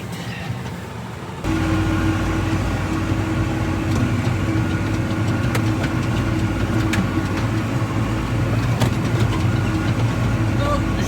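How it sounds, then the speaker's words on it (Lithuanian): A tractor engine starts up after a brief quiet moment, then drones steadily at close range while driving along a gravel road, with a constant low rumble and faint rattles throughout. "Žvyrkeliu nėra įspūdingai važiuoti traktoriu."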